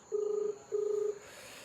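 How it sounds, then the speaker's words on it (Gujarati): Ringback tone of an outgoing phone call: two steady, even buzzing rings about half a second each, separated by a short pause, clear and alone with no talking. "ફોન લગાવ્યો છે"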